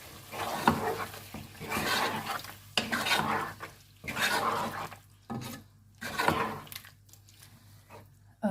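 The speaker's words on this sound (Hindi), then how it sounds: "इसमें हल्दी, नमक, काली मिर्च, सुरख मिर्च, ये तमाम चीज़ों अब अच्छे से मिक्स कर लेंगे" Chicken and tomatoes being stirred with turmeric, salt, black pepper and red chili in a pan: repeated scraping and clattering strokes in bursts over a soft sizzle, with short quiet gaps between strokes.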